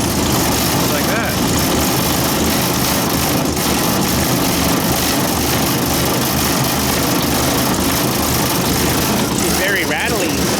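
Kubota 008 mini excavator engine idling while warming up after preheating, a loud, steady rattling diesel drone that runs close and unbroken throughout.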